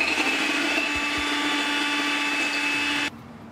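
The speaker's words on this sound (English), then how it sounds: "I'm just using the cake mixer here." An electric cake mixer whirs steadily while beating eggless, butterless chocolate loaf cake batter, a loud, close motor drone that cuts off abruptly near the end.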